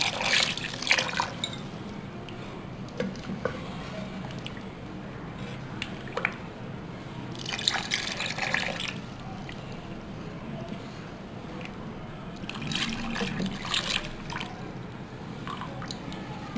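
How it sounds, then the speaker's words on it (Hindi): Flour mixture is poured gradually into simmering nihari while the pot is stirred, giving soft wet squishing and dripping sounds in intermittent bursts against a quiet kitchen background. "ये जो मैंने आटे का मिक्सचर बनाया था इसको हम आहिस्ता आहिस्ता करके डालेंगे"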